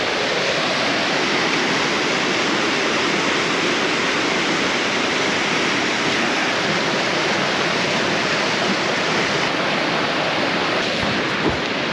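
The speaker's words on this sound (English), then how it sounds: "A few little waterfalls over there." Small waterfalls on the fast-flowing Una River in Bosnia and Herzegovina make a loud, constant broadband rush of cascading water that fills the scene steadily without pause.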